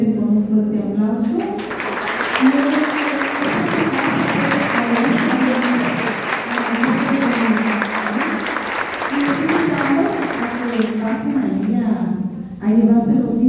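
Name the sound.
audience applause thanking the lecturer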